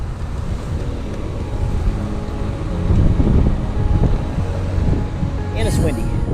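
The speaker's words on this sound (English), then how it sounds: "And it's windy." Outdoors near Laramie, strong wind buffets the microphone in a loud, continuous low rumble that swells and eases throughout.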